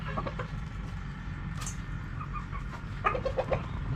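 Chickens cluck softly in a small rural hut setting, a few scattered short clucks near the end over a low rumbling background, fairly faint and without talk.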